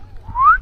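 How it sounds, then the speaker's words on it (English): A northern cardinal gives a single clear, rising whistled note lasting under a second, fairly loud and close, over a faint low outdoor rumble in a Maine town. "Yep, that's the cardinal there"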